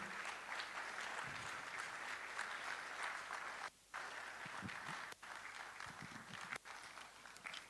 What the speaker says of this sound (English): Please, let's clap until she collects the microphone.